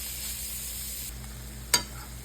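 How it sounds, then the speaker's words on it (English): Beef browning in a pan for a lasagna meat sauce gives a steady, even sizzle, with one brief sharp scrape or clatter near the end. "I'm browning the beef before I'm gonna put in the sauce"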